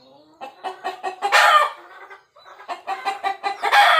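Rooster and hens of a backyard flock clucking in rapid bursts, with a loud crow rising twice among the clucks, close and lively with a brief lull in the middle.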